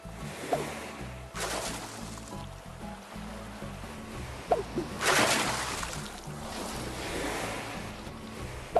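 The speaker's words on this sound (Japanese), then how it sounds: "マンボウを海に逃がすと、このように水しぶきが立ちますが" Splashes of an ocean sunfish dropped into the sea in Animal Crossing, a few bursts of spray over a steady wash of surf and water ambience, no talking.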